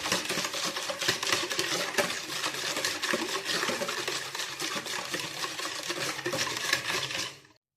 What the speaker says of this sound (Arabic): غادي نخلط مزيان حتى يذوب ليا السكر